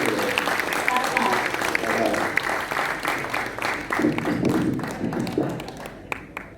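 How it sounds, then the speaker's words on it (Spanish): Audience applause at a conference, steady loud clapping from a crowd that thins toward the end, with voices mixed in. "Le damos un fuerte aplauso a Steven."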